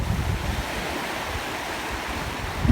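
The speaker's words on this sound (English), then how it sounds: "Listen to the ocean, to the waters, and stories will come up." Ocean waves wash in a steady, loud roar of surf with a low rumbling swell and some wind noise on the microphone, continuous throughout with no voices.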